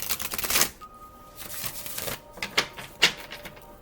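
A tarot card deck is shuffled and split, giving a quick riffle followed by several short, crisp card snaps and taps close to the microphone, with no talk.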